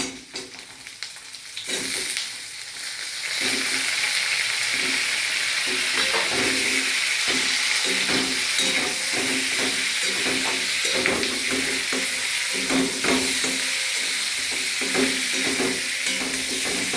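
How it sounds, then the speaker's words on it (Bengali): Rohu fish pieces drop into hot oil in a pan and the sizzle swells to a loud, steady crackling hiss, close by, with rhythmic spatters and light utensil scrapes continuing to the end. "এবার মাছগুলো ছেড়ে দিই।"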